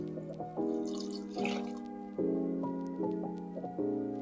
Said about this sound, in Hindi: अब हमें इसे पानी भी हम ऐड करेंगे,